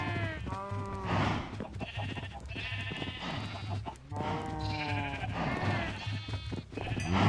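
Several Minecraft sheep bleat repeatedly, overlapping calls rising and falling over a steady low hum, clear and close.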